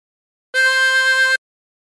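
A single harmonica note blown into hole one, held steadily for under a second, close and clean with no talking around it.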